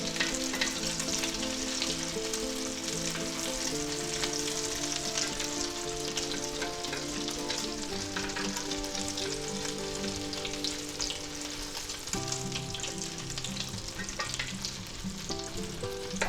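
Cheesy chicken ranch patties frying in a pan, a continuous sizzle sitting under steady background music for the whole stretch, with no talking.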